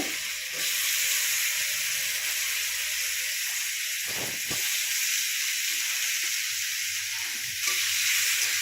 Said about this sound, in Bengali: আলুগুলো দিয়ে খুব সুন্দর করে কিছুক্ষণ কষে নেব।